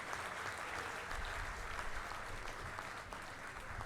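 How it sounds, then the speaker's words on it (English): An audience at a university convocation ceremony applauds a graduating engineering student, a continuous wash of clapping heard from a distance at low level. "A girl engineering student, a big round of applause,"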